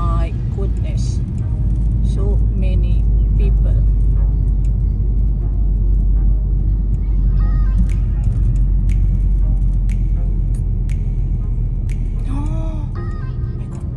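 A car drives slowly around looking for a parking space. A low, steady engine and road rumble continues beneath people talking, with occasional faint clicks and small noises from the cabin.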